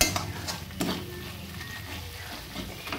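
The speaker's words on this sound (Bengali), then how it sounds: "ভালো করে নেড়ে চেড়ে নিই।" Ground cumin and coriander being stirred in a cooking pan for potol chingri, heard as soft close scraping and stirring strokes over a low sizzling hiss, with a faint clink.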